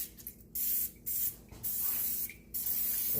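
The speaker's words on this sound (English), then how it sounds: "I've got a 9x13 pan that I'm just going to spray with some cooking spray." Cooking spray hisses from an aerosol can into a 9x13 baking pan in several short, close bursts with brief gaps between them.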